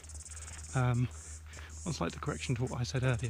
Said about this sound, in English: there's a fair bit of wildlife noise, mainly crickets though.